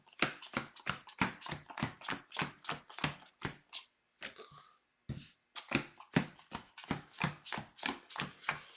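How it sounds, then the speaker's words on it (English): A deck of cards being shuffled by hand, close and crisp, with rapid riffling bursts in repeated rhythmic passes and a short pause partway through. "So we're going to start shuffling our deck."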